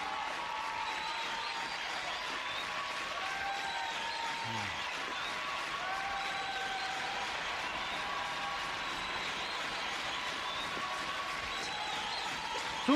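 A large arena crowd applauds thunderously in a Hindi-dubbed film, a dense and steady roar of clapping and cheering that runs unbroken from start to finish.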